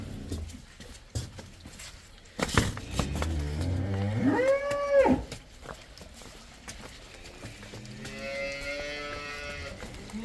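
A cow gives a loud, drawn-out moo nearby, followed later by a fainter second call, amid clattering and shuffling farmyard noises.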